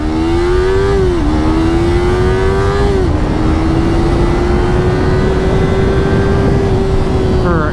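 Motorcycle engine droning loudly and steadily under throttle while riding, with pitch rising, dipping at a couple of gear changes, then climbing again, all over heavy wind rush.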